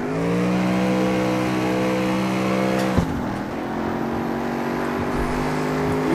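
A car engine revving in the street racing game CarX Street, a loud steady engine tone that drops sharply at a gear change midway, then climbs again under continuing throttle, with faint tire noise and no talk.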